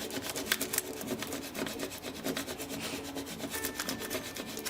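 Pot scraper rubbed firmly across a decal to press it onto a glitter tumbler, a steady dry scraping and rasping texture in continuous close strokes with no talk.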